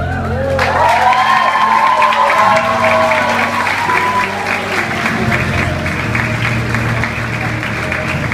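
Sustained applause from an audience honoring law professors during a law school event week, steady clapping with some cheering and crowd murmur throughout, loud and continuous.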